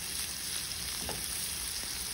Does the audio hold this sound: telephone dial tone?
no